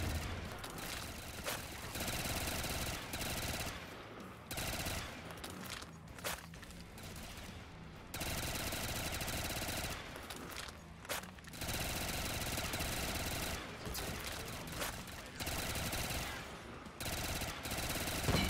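Rapid automatic fire from a pack-a-punched ACR rifle in MW2 zombies on a carnival map, loud sustained bursts separated by short pauses, with a few quieter gaps between volleys.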